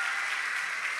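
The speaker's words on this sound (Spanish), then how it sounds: "Ese aplauso es para el Señor." Brief burst of congregation applause at a Sunday Mass homily, an even, continuous patter of many hands heard on its own.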